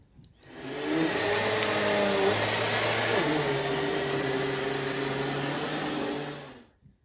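A Bissell CleanView Swivel Pet upright vacuum cleaner runs on a shag rug, its steady motor whine and suction roar holding close and loud for about six seconds, with a shifting pitch as the head pushes through the deep pile.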